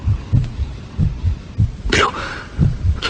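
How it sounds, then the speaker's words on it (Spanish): Heartbeat sound effect in a Spanish reading of Poe's The Tell-Tale Heart: steady low double thumps repeating about once per second, loud and close, with a narrator's voice briefly speaking over it. "los latidos se oían cada vez más fuertes, más fuertes"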